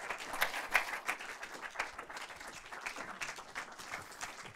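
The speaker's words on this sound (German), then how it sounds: "Dein Applaus." An audience at a German film event in Frankfurt applauds a guest director: dense, steady clapping from many hands throughout, moderately loud and without talk.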